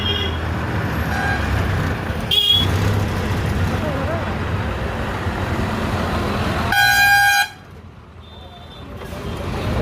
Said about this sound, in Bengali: খালি একবার এখানে কীরকম জ্যাম লেগেছে, খালি একবার দেখুন